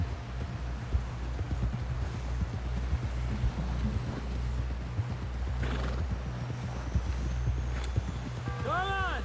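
Horse hooves clip-clop steadily at a gallop in Red Dead Redemption 2, with a horse neighing and whinnying over the rhythmic footfalls and a low rumble beneath; a voice is heard briefly.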